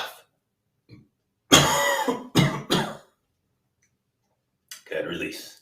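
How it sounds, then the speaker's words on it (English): A single short, sharp cough bursts out after a quiet pause during a qigong breathing exercise, followed by a couple of quick throaty coughs, then another rough burst a moment later. "And a cough."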